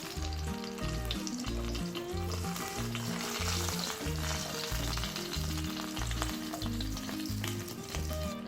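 Black pomfret wrapped in banana leaf fries in a pan with a steady, loud, continuous sizzle throughout, with faint stirring or shifting sounds layered over it.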